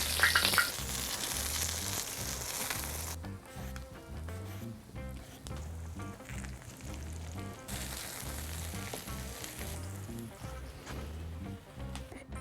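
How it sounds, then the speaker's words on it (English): Eggplants sauteing in a small amount of ghee, a steady close sizzle and crackle that runs unbroken throughout, alone with no talk. "now is the time to saute the eggplants"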